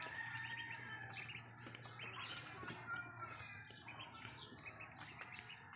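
Six-day-old ducklings in a brooder keep up a busy chorus of thin, high chirps and peeps that overlap continuously, fairly close, over a soft low hum.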